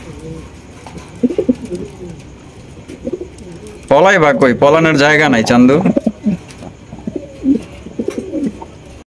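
Yellow Danish pigeons in a breeding coop give a burst of cooing, loud and close, while someone talks before and after.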